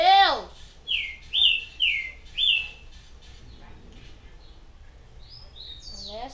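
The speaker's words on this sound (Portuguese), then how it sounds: "como esses passarinhos não param de cantar?" Birds in the Resident Evil 4 video game chirp in bright, clear whistled calls, a quick run of four notes followed by a pause and then more calls, fairly close with no talk over them.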